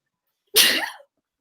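A single loud, sharp sneeze from a person, very close, bursting out of silence and fading within about half a second.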